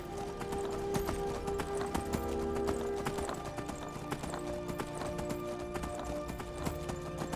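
Steady clip-clop of horse hooves trotting at an even pace in the video game Skyrim, close and clear, over a soft tonal background.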